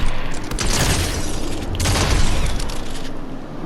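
Repeated shotgun blasts in the video game Raiders, loud and dense, with heavy booming low end and bursts of gunfire running through the whole stretch amid game noise.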